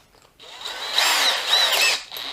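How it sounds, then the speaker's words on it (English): DeWalt DCD796 cordless drill switched to drill mode, its motor whirring up steadily close by for about two seconds after a short quiet start, with no talk over it. "Does it drill? Turning it round to drill mode"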